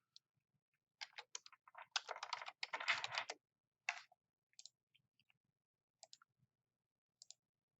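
Quiet typing on a computer keyboard: a rapid burst of clicking keystrokes, then a few scattered single taps, heard close in an otherwise silent room.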